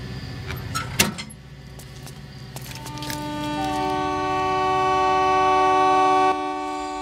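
A train at a station gives a bright, sustained horn blast that swells and holds for several seconds, preceded by clanks and thuds of rolling carriages nearby.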